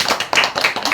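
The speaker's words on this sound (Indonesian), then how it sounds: "Baik, tepuk tangan dulu." A school class claps their hands together in a quick, rhythmic burst of several sharp claps, close and loud, lasting under a second.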